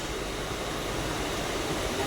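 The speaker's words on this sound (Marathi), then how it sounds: "पनवेलची ट्रेन भेटलाय मला." A Panvel-bound train runs with a steady, broad rumbling hiss heard from inside the carriage, constant and moderately loud with no talking.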